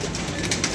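Pigeons kept in pairs coo softly and close by in a brief, low burst with no other voices.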